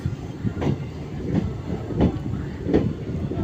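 A train hauled by two locomotives rolls past outdoors, its wheels giving a steady rumble with regular clickety-clack beats over the rail joints, fairly close and moderately loud.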